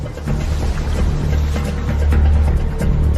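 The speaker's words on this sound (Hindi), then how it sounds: "लहरों की आवाज सुनाई दे रही है।" Waves washing near a rocky river shore as a raft drifts toward the rocks, a continuous loud watery rush with low rumble and no talking.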